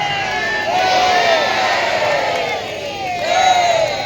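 A large crowd at a Guru Purnima festival shouts jaikara chants in loud, repeated surging waves of massed voices, the calls rising and falling close by.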